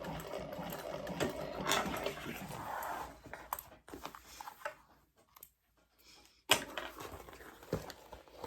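A sewing machine stitches a seam in vinyl, running in a fast, close whir for about three seconds, then stopping with a few short bursts and handling noises.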